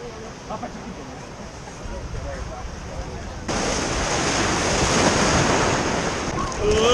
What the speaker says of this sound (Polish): Ale fale potężne.